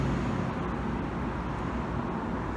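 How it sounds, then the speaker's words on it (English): Steady roadway noise from buses and cars going over near a council building, a continuous dense rumble and hiss with no distinct pass-bys or speech. "if you can't hear me well, and the buses and cars are going over"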